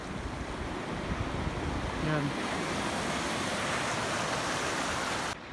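Strong ocean waves surge and roar continuously at Yolanda Beach in Salcedo, Eastern Samar. The sound is loud and broadband, with wind buffeting the microphone and a brief voice speaking over it.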